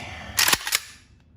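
A Rifle Dynamics 704p rifle's tuned trigger is dry-fired, giving a sharp, close metallic snap followed by a second lighter click a moment later, then quiet.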